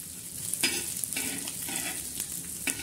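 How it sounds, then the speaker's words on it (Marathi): Onions sauté in a pan until reddish-brown, a steady hiss of frying with brief scraping stirs from a spatula, fairly quiet and with no talking. "म्हणजे परत कांदा परतला जातो, छान असा लालसर"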